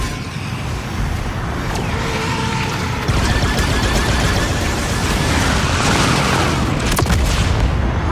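Sustained gunfire and explosive booms in a space combat game during a pirate ambush, dense and loud throughout with a sharp burst near the end, no talk.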